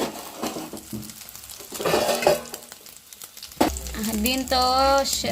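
An omelette sizzles in a home kitchen pan, a steady crackle with scraping and stirring that swells and fades, while tonal sounds play near the end.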